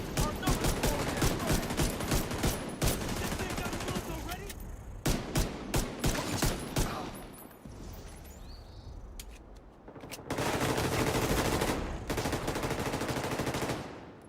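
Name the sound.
pistol gunfire from video game The Division 2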